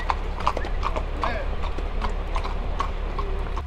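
Flood-rescued horses clop along at a walk with steady, close hoofbeats, and a whinny breaks through partway as they are led out of deep water, over a constant low background rumble.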